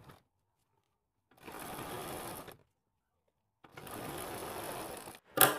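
Sewing machine stitching lace onto a kurti sleeve strip runs in two bursts of steady rapid whirring, each about a second long, with quiet pauses between them and a short sharp click at the end.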